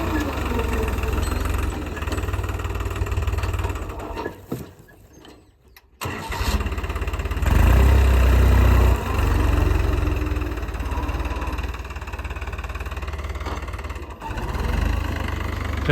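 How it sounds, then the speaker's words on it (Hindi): A New Holland 3600-2 tractor engine runs close by during wheat sowing, a loud steady diesel rumble that dips briefly near the middle before roaring back at full throttle. "ट्रैक्टर ये बहुत ज़्यादा हाई स्पीड है, थोड़ी सी भी कम रेट देने में बंद हो जाता है।"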